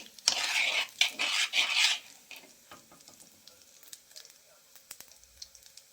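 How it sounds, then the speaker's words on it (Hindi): Cumin seeds and asafoetida sizzle in hot oil and are stirred with a utensil in a pan. A loud spitting sizzle comes first, with scraping stirs, then it settles into quieter intermittent crackles and clinks. "उसके बाद हींग डाल के इसे अच्छे से हिला लेना है।"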